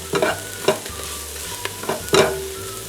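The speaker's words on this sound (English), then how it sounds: "So I've got my onions sauteing." Onions sautéing for a turkey chili, a steady sizzle under sharp scraping stirs that come in several separate bursts, close and fairly loud, with no talking.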